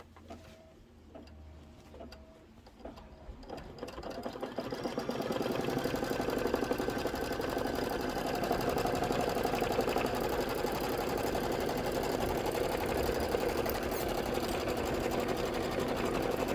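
An embroidery machine stitches the front tack-down on a Santa cinch sack, starting after a few seconds of handling and hoop-sliding noises, then running as a steady, loud, continuous mechanical whir with rapid needle clatter alone until the end.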